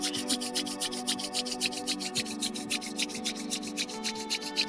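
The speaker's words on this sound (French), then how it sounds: "On frotte les mains." Palms rubbing briskly together during a beginner Tai Chi warm-up, a steady run of dry, rhythmic swishing strokes repeating close and fairly quiet throughout, with no talking.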